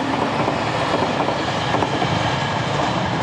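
An express train on Shikoku, Japan, arriving at a small station, rumbles steadily past with a dense, continuous roar and faint rhythmic clatter of wheels on track, loud and close throughout.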